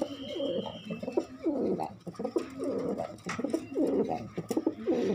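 Pigeons at a breeding farm coo repeatedly nearby in soft, rolling phrases that overlap one another, with a few faint chirps in between.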